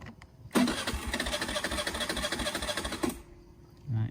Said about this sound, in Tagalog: Tingnan natin ha. Aandar natin. Hindi pipigaan.